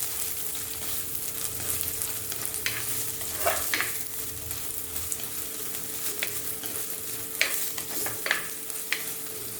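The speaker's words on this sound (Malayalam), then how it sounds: "അതിലേക്ക് ഞാൻ ഒരു സവാള അരിഞ്ഞതും കൂടെ ഇട്ട് കൊടുക്കുന്നുണ്ട്." Finely chopped onion and green chilli sizzle steadily in a pan while a spatula stirs them, giving intermittent scrapes and clinks at moderate volume with no talking.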